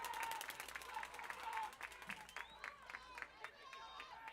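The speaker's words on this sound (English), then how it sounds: "We'll get a round of applause from the Whippet faithful." Steady applause from a high school baseball playoff crowd, with dense clapping that thins out over a few seconds, heard at a distance under a faint murmur.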